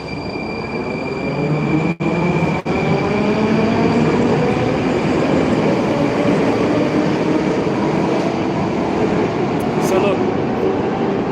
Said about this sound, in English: We gotta catch the train here